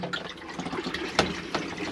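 A toilet flushes in a Malibu 640 LE RB GT camper van, a soft, close swirl and trickle of water with a brief gurgling burst midway, fairly quiet throughout.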